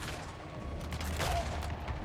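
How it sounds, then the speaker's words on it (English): Battle gunfire crackles in Total War: Warhammer 3 as scattered shots pop over a dense, rumbling wash of distant combat noise, moderately loud and continuous. "There we go, there's some gunfire."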